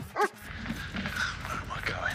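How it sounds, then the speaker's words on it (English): An angry police dog lets out a sharp, loud bark near the start, followed by fainter yelping and whimpering noises under a busy, voice-filled background. "Dog sounds"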